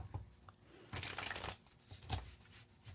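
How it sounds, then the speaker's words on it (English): Tarot cards being shuffled by hand, close and quiet, with a long riffling burst in the middle and shorter flicks and taps before and after. "when I shuffle the cards"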